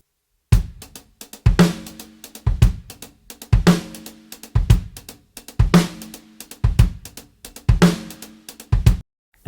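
Drum kit playing a steady repeating groove, punchy kick and snare hits with cymbal wash in a regular rhythm, close and clear with no talking.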